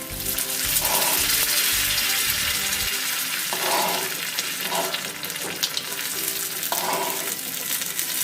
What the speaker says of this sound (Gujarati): અહીં આપણે જે વઘાર કરેલો તે એડ કરીશું।